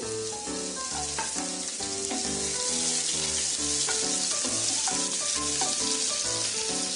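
Cumin, dried coriander and green chilli fry in a pan as the filling for aloo matar bread rolls, a steady close sizzle running throughout beneath background music with no talking.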